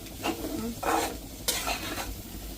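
Food stirred in a pan on a stove for a Sunday feast: a few spoon strokes scrape against the pan over a steady close sizzle, with no talking.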